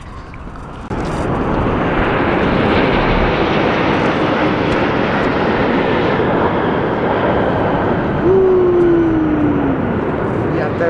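Airplane landing at an airport, a loud, steady jet engine roar rising in and holding close for several seconds, with a faint tonal whine near the end and people talking nearby.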